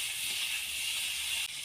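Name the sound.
frying capsicum, tomato, chilli and salt in a pan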